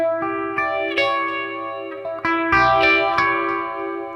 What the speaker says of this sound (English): And really sounds really nice with the phaser.